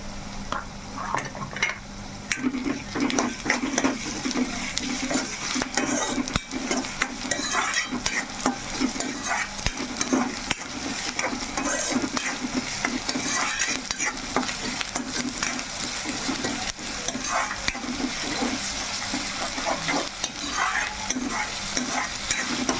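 Masala paste stirred and frying in a pan, a continuous close sizzle with steady scraping strokes of a spoon throughout, no talk.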